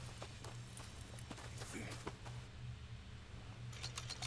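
Faint clip-clop of a Shire horse's hooves in Red Dead Redemption 2, steady light footfalls over a low ambient hum.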